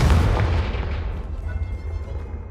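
A Confringo blasting curse explodes in Hogwarts Legacy: a loud, close burst with a heavy low boom that decays into a rumbling tail.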